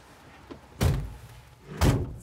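A door closes with two solid, fairly close thuds about a second apart, standing out clearly against a quiet background with no talking.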